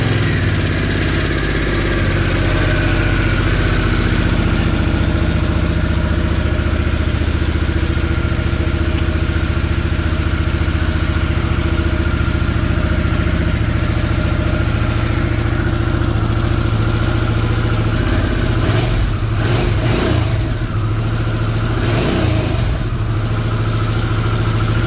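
A Harley-Davidson Sportster S motorcycle with its original stock exhaust idles steadily and loud up close, a continuous low throbbing rumble with a couple of brief throttle blips near the end.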